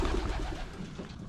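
Pigeons in a racing pigeon loft with widower compartments, giving low, soft cooing and murmuring from close by, steady and unbroken with no talk.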